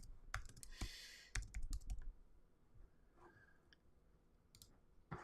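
Someone typing into a chat window on a computer keyboard: quiet, close, irregular bursts of key clicks and taps with short pauses, no speech.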